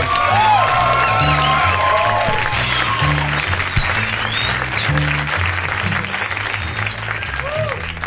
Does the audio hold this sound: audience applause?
yes